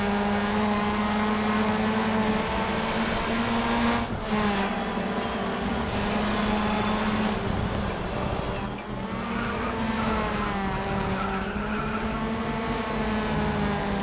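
A touring car races at Brands Hatch in the video game Grid Autosport, its high-revving engine whining loudly with rising and falling gear changes and occasional tire squeal, continuous throughout with no talk.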